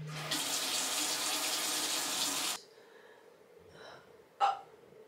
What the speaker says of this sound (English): this is how I wash my face